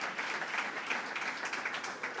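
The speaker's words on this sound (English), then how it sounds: "Let's give a round of applause to them." Steady applause from a crowd, a dense wash of clapping that holds at an even level throughout.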